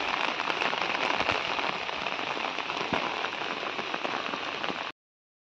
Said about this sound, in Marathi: आमच्या गावात दिवसभर पाऊस पडतोय